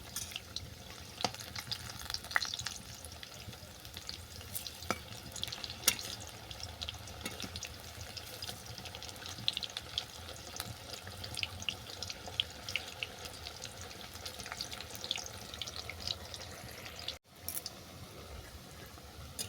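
Pakoras fry in hot oil with one side browned, making a steady, fairly quiet sizzle and fine crackle that runs without a break, apart from a brief dropout near the end. No voices are heard.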